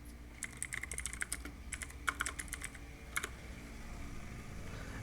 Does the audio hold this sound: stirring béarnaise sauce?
no